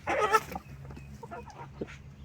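Chicks cluck in a short burst close by, followed by a few fainter scattered calls against quiet farmyard background.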